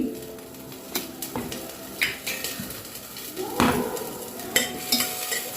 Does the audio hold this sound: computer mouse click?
no